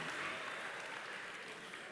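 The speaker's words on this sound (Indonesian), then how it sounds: "Tepuk tangan adik-adik." Children clap their hands together at a workshop session, a dense, steady burst of applause filling the whole moment at moderate, slightly distant level with no talk over it.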